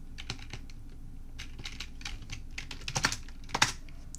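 Someone types on a computer keyboard while running Python code, giving irregular, close key clicks that pick up into a quicker cluster of taps near the end.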